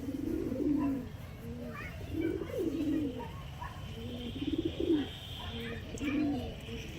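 Pet pigeons coo on a rooftop in a steady run of soft, rolling coos, about five phrases over several seconds, close by, over a low background rumble.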